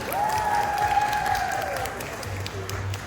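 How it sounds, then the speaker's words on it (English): At a cosplay masquerade at a collectors show, an audience applauds a cosplayer who sings costume covers of video game music, with steady clapping beneath a sustained tone and a low hum near the end. "Another round of applause for Glory!"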